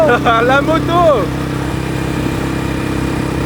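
A motorcycle travelling in Morocco gives a steady, low engine drone that runs throughout, with a voice speaking briefly over the first second.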